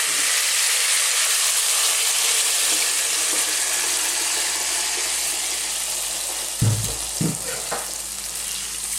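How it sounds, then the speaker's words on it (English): Cold water pours steadily into a pot holding chicken in a home kitchen, a continuous bright rushing close by, with a couple of low knocks from the pot near the end. "What we're going to do now is add some cold water, quite a lot."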